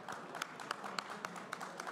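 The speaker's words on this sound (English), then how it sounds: "Let's give a big round of applause to Ricky Cage." Scattered hand claps from a small audience at an online event welcoming a guest named Ricky Cage, with individual sharp claps popping out over a steady wash of softer clapping for about two seconds.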